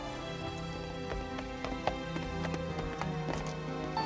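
Hooves of a cart horse clip-clop steadily while it pulls a delivery cart up to a castle banquet, with quick, light hoofbeats over a continuous musical background.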